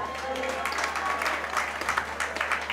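Audience applause at a live comedy show, a steady wash of clapping throughout with brief louder surges and some crowd noise mixed in.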